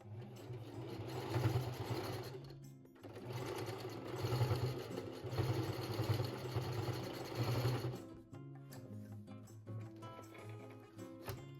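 Singer heavy-duty sewing machine stitching through six layers of blue jean, loud steady whirring runs in two long bursts with a short pause between, then stops into quieter clicks and handling.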